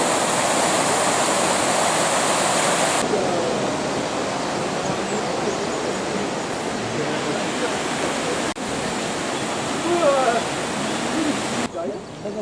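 Water rushes steadily through a mill on the Gouët river, a loud, continuous broadband roar that holds for the whole stretch with only slight shifts in level.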